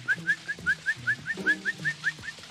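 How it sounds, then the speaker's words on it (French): A sparrow chirps a rhythmic series of about a dozen short, bright notes at a steady pace, fairly close and loud, with nothing else over it. "Le moineau."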